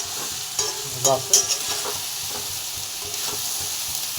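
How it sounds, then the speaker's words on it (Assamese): Pigeon meat and banana flower fry in a pan with a steady, close hiss and sizzle. Spoon stirs add a few brief scrapes, and a voice speaks briefly over the cooking. "ভাজি থকা হৈ আছে"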